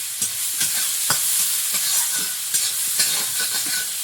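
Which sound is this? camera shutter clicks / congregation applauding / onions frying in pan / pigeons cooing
onions frying in pan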